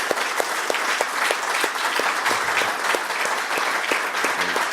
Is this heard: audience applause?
yes